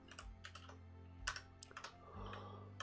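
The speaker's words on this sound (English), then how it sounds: "I'll just type it out." Keys clacking on a computer keyboard during a Scheme programming session, a steady run of close, light taps and clicks with no voice over them.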